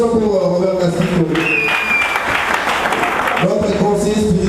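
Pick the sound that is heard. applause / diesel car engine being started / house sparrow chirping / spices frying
applause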